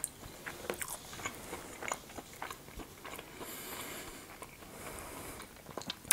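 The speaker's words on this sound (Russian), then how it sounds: "Краешки получаются хрустященькие," Crunchy edges of homemade waffles bitten and chewed close to the mic, a series of quiet crisp bites and chewing sounds spread irregularly, with no talking.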